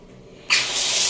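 A shower fed by an instant water heater bursts on abruptly after a moment of quiet, then sprays in a strong, steady hiss of rushing water close by.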